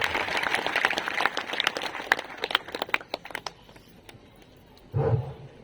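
Loud, dense clapping from an audience welcoming a swamiji at a welcome function. The applause runs steadily for about four seconds, then thins out, and a short louder burst follows.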